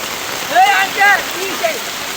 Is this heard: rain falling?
yes